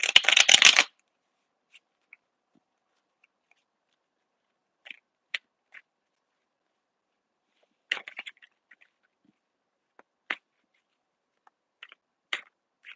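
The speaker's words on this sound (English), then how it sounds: "Just some good ASMR shuffling for you." Tarot cards shuffled close to the microphone: one loud burst of riffling at the start, then sparse, quiet taps and flicks of cards scattered through near silence.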